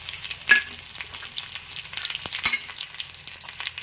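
Chana dal dropped into hot oil with garlic and peanuts, frying with a steady light sizzle and crackle, a couple of sharp pops and stirring scrapes, no talk.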